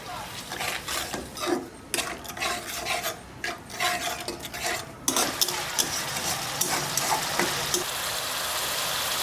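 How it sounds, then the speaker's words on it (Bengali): Spice paste of salt, cumin and coriander powder sautéing with a little water for Bengali rui fish tel jhal, a dense hissing sizzle with rough stirring scrapes, settling into a steady loud bubbling hiss. "এবার অল্প পরিমাণ জল দিয়ে দেবো, দিয়ে একটু মশলাটা কষিয়ে নেব 5 মিনিটের জন্য।"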